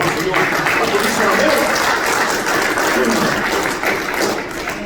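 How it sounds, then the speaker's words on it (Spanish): A church congregation applauds at a Spanish-language service, a dense, sustained burst of clapping that holds steady for several seconds and fills the room, with voices mixed faintly underneath. "Entonces un aplauso al Señor."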